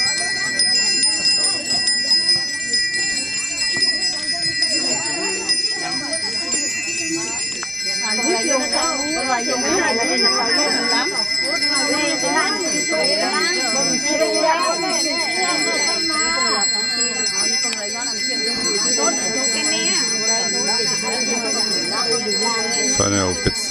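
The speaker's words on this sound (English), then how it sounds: "Bells are so beautiful." Bells ring continuously at a Balinese temple ceremony with bright, sustained overlapping tones, a dense chiming texture that holds steady throughout, with faint voices underneath.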